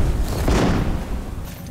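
Bomb explosions in the video game Enshrouded form a dense, loud rolling boom with crackling bursts that swell and then slowly fade.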